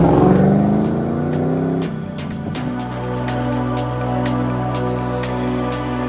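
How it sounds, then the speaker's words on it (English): A custom Defender 90 soft top powered by a 565 hp LS3 V8 with a 6-speed manual revs up, then settles back to a steady, deep idle, heard close and alone. "powered by our LS3 565 horsepower engine mated to a 6-speed manual transmission"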